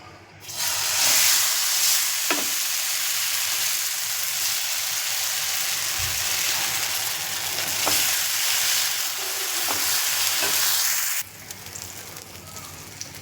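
Green moong dhirde batter fries on a hot oiled griddle with a loud, steady sizzle and hiss, a few soft scraping knocks along the way, then the sizzle drops quieter near the end.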